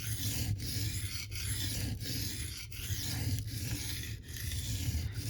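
Knife blade stroked across a 400 grit diamond sharpening plate, a series of regular rasping scrapes about once every second with brief pauses between strokes, close and quiet.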